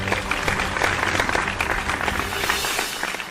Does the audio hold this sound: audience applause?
yes